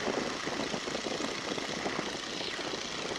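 A 1942 Stearman Kaydet biplane's engine drones loud and steady in flight, a continuous close-up roar with no pauses or voices.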